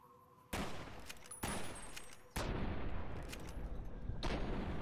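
Sustained gunfire against Powder Gangers in the game Fallout New Vegas, loud dense bursts that start abruptly and continue almost without pause, with no voices.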